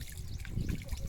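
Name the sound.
water trickling in from the pond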